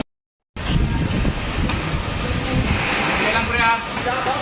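Wind blusters steadily across a microphone outdoors at a house front being fitted with PVC panels and gutters, a loud rumbling gust that starts after a moment of silence, with a voice speaking underneath.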